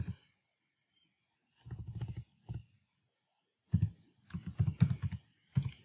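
Code being typed on a computer keyboard: close bursts of rapid key clicks separated by silent pauses, with a few single taps, no speech.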